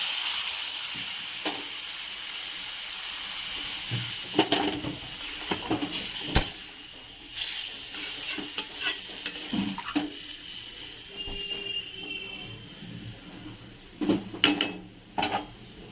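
Spice paste fries in a pan, a soft steady sizzle broken by repeated scraping and clinking strokes of a spatula stirring against the metal, irregular and close over about sixteen seconds.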